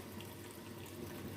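Boiled hot water, about two glasses, pours into a pot of potato and mutton curry in a steady rushing stream. It is faint and continuous with no break and no talking.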